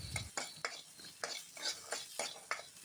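Tomato with salt and turmeric being stir-fried in a pan for rasam, heard as a rhythmic series of about eight scraping stir strokes over a faint sizzle, close but quiet.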